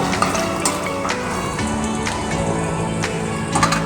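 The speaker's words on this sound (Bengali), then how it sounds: "এবার এর মধ্যে দিয়ে দেব টমেটোর টুকরোগুলো দিয়ে আবার একটু নেড়ে চেড়ে নেব" Onions and tomato pieces sizzle and crackle in hot oil in a pan while being stirred, a steady close frying hiss with occasional scraping taps.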